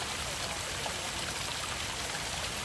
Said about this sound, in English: Very teeny tiny waterfall.